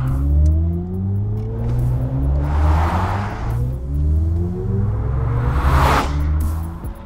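A synthesized acceleration tone from a 2022 BMW i4 M50 electric car rises in layered, sweeping pitches, swelling twice with whooshing surges; no talking, steady and fairly close.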